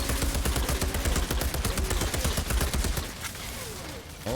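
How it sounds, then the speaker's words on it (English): Heavy shotgun blasts fired in a modded Valheim session, a quick run of loud, close booming shots that thin out toward the end and leave a quieter rumbling tail. "that is a shotgun to die for"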